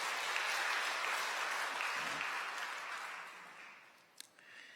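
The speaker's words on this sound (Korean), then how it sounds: "여러분들 환영의 박수 부탁드립니다." A church congregation at a Sunday service claps in welcome: a broad, even roar of many hands that holds steady, then fades near the end, with a single sharp sound as it dies away.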